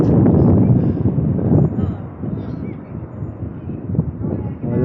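Strong wind buffets the microphone on a bike commute, a loud, continuous rumbling roar that eases slightly midway, then swells again near the end.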